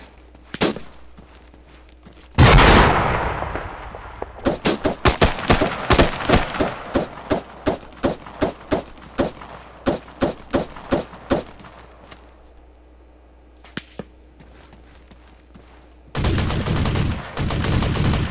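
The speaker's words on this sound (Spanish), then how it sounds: "está disparando el Gunner" Enemy machine-gun fire in the Arma 3 video game, heard as a long run of sharp, loud single shots and short bursts at an uneven rhythm, with dense sustained bursts at the start and again at the end.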